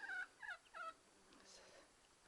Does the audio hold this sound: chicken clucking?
yes